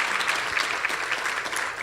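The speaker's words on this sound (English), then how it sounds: "Let's give them a round of applause." Brief audience applause at a city summit conference held in an art museum, a fairly even, moderately distant patter of many hands.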